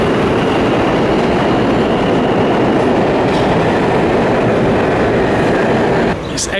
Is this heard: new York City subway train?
yes